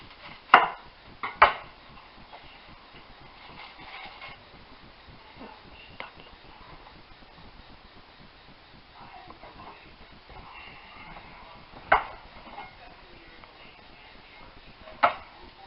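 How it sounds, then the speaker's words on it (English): Onions being roughly chopped on a board, a few sharp, separated knife strikes at irregular intervals over a quiet, faintly noisy kitchen background, with no talk. "Looking at 2 cups of onions roughly chopped."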